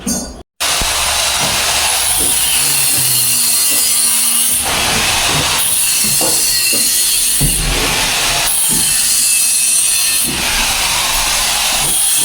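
An angle grinder works steadily on a metal stair railing, a loud continuous abrasive whine with short surges and dips in pitch as it cuts and smooths, running for nearly the whole stretch after a brief pause at the start.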